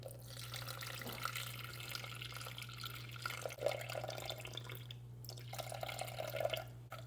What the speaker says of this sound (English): To this, I'm going to add 350 grams of filtered water.